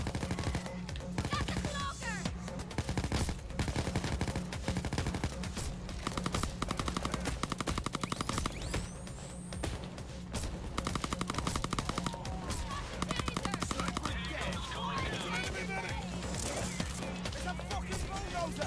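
Sniper and automatic gunfire in the heist video game PAYDAY 2, dense rapid shots and bursts rattling almost continuously, with game effects and voices mixed in beneath the shooting.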